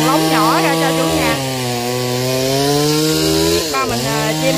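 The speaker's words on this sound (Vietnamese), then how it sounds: "Bây giờ ba mình sẽ cưa từng lóng nhỏ ra cho chủ nhà" A chainsaw cuts a royal palm trunk into short sections, its engine droning loud and steady with the pitch sagging under load and revving near the end, a voice talking over it.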